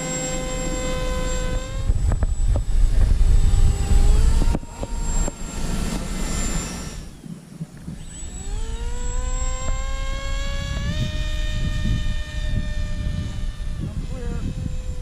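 An X-UAV X8 Skysurfer RC plane passing overhead on a go-around, its electric motor whine rising and falling in pitch, fairly loud and continuous, with a person talking over it.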